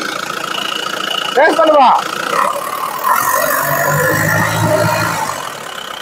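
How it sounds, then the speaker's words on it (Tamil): A used car's engine starts and settles into a low, steady run at a dealer's lot, heard close beneath loud talking in Tamil. "சும்மா வெச்சாலே பட்டுன்னு ஸ்டார்ட் ஆகுற வண்டி"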